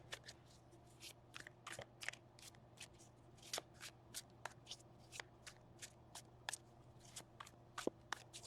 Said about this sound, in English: So I guess it would help if I shuffle them the right way.